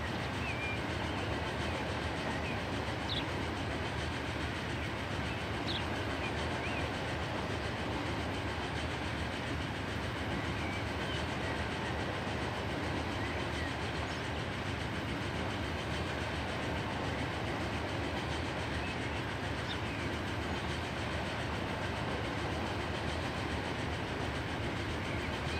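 A train passes through a station in the Transport Fever 2 video game as a steady, even rumble of rolling rail noise that holds at a constant level throughout.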